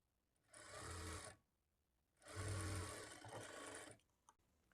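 A sewing machine stitches blouse cloth in two close, brisk bursts of rapid whirring, separated by a short pause, with no voices.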